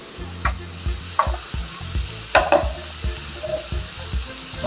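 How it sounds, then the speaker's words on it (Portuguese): Blanched collard greens sauté in a pan, sizzling under irregular stirring knocks and scrapes, with a few sharper clatters of the utensil against the pan, close by and with no talking. "Então, vai refogar essa couve aqui."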